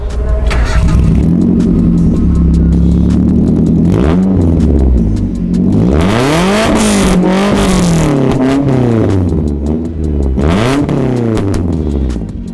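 A Daihatsu Terios engine revs repeatedly through a loud exhaust, rising and falling in pitch with several sharp throttle blips, close and alone.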